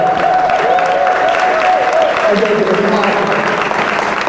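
An audience at a 100 Black Men of Greater Little Rock event breaks into steady, sustained applause that fills the room, while a speaker's voice carries over it.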